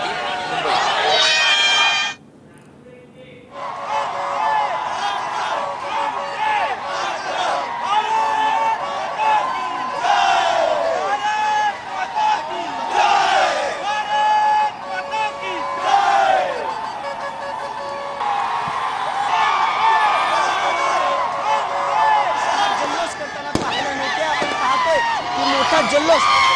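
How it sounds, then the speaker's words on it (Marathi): Young people in a big crowd at Marine Drive, Mumbai, cheer and shout to celebrate India's T20 World Cup win. The dense roar of many voices runs almost the whole time, with a short lull near the start. "मोठा जल्लोष तरुणांकडनं सुरू झालेला आहे."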